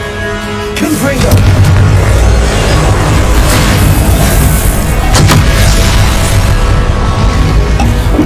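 Confringo blasting spell explosion in Hogwarts Legacy, a loud boom bursting in after a brief lead-in, followed by a sustained roaring rumble with a second sharp crack midway.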